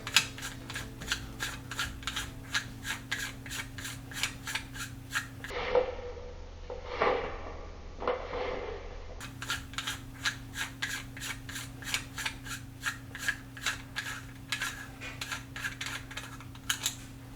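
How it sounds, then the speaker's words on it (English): Aquarium bulkheads on a 60-gallon reef tank are unscrewed with repeated scraping, rasping turns in a steady rhythm, broken by a short quieter stretch of rubbing and handling noises before the ratcheting resumes. "I'm going to unscrew these bulkheads"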